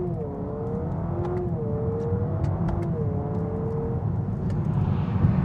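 A Honda Prelude accelerating, engine whine climbing steadily through several rising pitch sweeps with a brief dip at a gear change, heard from inside the car at moderate loudness with no talking.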